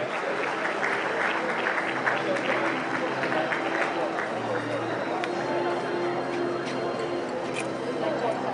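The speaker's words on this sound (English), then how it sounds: "A round of applause as he walks to this podium." Dense, steady applause from a ceremony audience as a Nigerian education official, a brigadier general, walks to the podium. It runs loud and unbroken throughout, with voices faintly mixed in.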